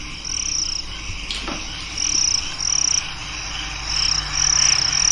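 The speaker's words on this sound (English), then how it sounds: "Crickets, tropical" Tropical night chorus of crickets and frogs, shrill pulsing chirps and croaks swelling and fading in steady waves, loud and close with no voices.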